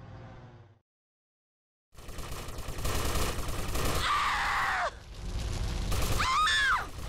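Gunfire erupts in Grand Theft Auto: Vice City on PlayStation 2: after a brief silence, sustained rapid shots and loud blasts ring out, joined by rising whining, screeching effects.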